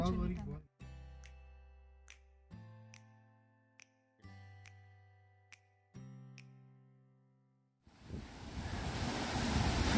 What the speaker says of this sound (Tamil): தண்ணி விழுகுதுங்க மாடி